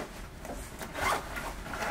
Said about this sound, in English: Here's the zipper pull.